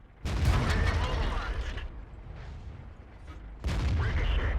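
Two heavy tank-gun impacts in World of Tanks, each a loud booming crack with a long rumbling tail, separated by a quieter stretch of engine-like rumble and faint mechanical noise.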